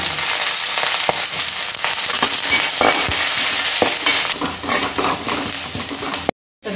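Curry leaves crackle and sizzle in hot oil for a rose apple pickle, following mustard seeds and ginger. The frying is loud and steady, with sharp pops throughout, then cuts off abruptly near the end.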